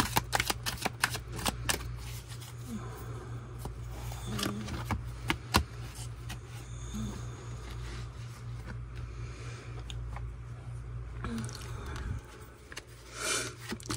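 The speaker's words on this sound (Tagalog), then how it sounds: "balasahin po natin maigi." Tarot cards being shuffled thoroughly by hand, a long stretch of close, soft riffling and flicking with irregular sharper snaps over a low steady hum, no talking.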